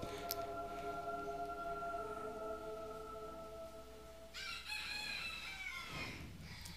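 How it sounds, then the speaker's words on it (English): Chickens and a rooster in the video game Fable 3, with a steady background of soft game music; a loud rooster crow bursts in near the end, clear and close. "This game's all about chickens, and I got chickens in real life."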